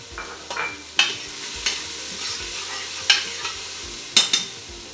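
Onions sautéing in a pan for chicken binakol, a soft sizzle punctuated by several sharp scrapes and stirring clatters from a utensil, close and clear with no voices.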